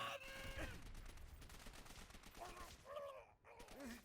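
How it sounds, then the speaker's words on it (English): Bursts of MP40 submachine gun hip fire in the Call of Duty: World at War campaign, rapid gunfire mixed with battle noise and in-game voices shouting in the background. "Doing a little bit of hip fire in there with the MP40."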